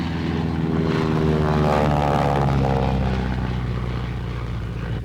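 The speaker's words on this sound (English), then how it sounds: "the Forest Service again turned to the larger Navy torpedo planes" Navy torpedo plane from a forest firefighting air force, its piston engine droning loud and steady throughout with a rough propeller hum, holding close and even without pause.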